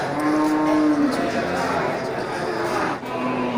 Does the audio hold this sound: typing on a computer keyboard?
no